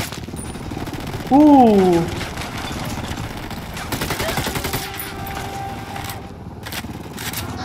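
Sustained gunfire from the shooter game Ghost Recon Wildlands crackles steadily in the background, with a brief vocal exclamation rising over it near the start.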